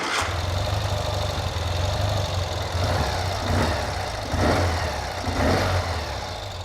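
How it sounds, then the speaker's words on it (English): A newly assembled 2019 Ural Gear Up sidecar motorcycle's engine running steadily nearby, a loud low idle with a few mild rises in revs and no one speaking. "Let's hear the bike running"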